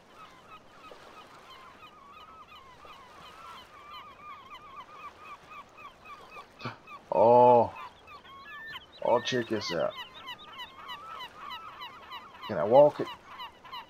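Seagulls call over a coastal map in a video game, a few loud, brief squawks and cries standing out against a quiet ambient background, with someone talking in between.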